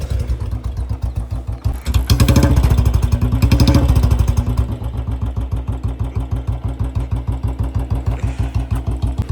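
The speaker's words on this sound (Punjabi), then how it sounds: "ਇਹਦੀ ਸਾਊਂਡ 2024 ਮਾਡਲ ਦੀ ਜੇ ਸੀਰੀਜ਼ ਦੀ। ਤੇ ਹੁਣ ਸੁਣਾਉਂਦੇ ਹਾਂ ਤੁਹਾਨੂੰ ਉਹਦੀ ਸਾਊਂਡ।" A Royal Enfield Bullet 2024 J-series single-cylinder motorcycle fitted with a silencer idles close by in a steady, even thump, swelling briefly as the throttle is blipped twice before settling back to a regular idle beat.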